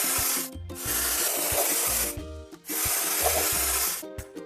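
Rubbing strokes scrape rust off a toy excavator, two long, loud abrasive sweeps with a short pause between, alone with no talk.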